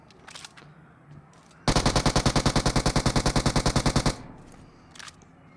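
Automatic weapon fire in a battle royale video game at Georgopol: one loud, rapid burst of evenly spaced shots lasting about two and a half seconds, with quieter sounds before and after.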